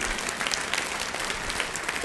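Steady, dense applause from a church congregation praising Jesus, continuous and fairly loud with no talk.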